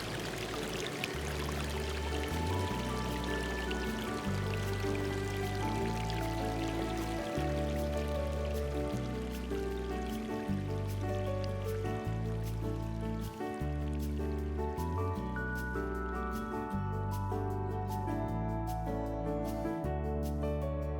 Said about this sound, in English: The sound of falling water, arriving long before the sight of it does.